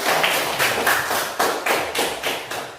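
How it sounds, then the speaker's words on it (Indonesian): A short round of applause from a small group, quick overlapping claps fading slightly over about three seconds, no talking. "tepuk tangan untuk Sandra."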